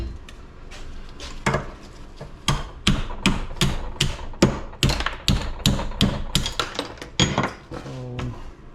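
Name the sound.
ball peen hammer tapping microwave parts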